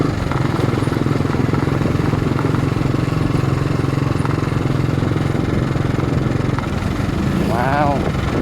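Big bike motorcycle engine droning steadily while riding, a continuous loud mid-low rumble throughout, with a brief voice near the end.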